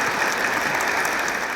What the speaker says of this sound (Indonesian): tepuk tangan dulu untuk Habib